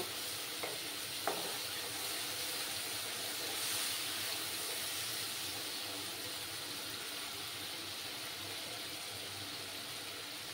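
Spice masala sautéing in a pan for a radish-greens and mourala fish jhol, a steady low sizzle running throughout with a couple of faint scrapes near the start, no voices.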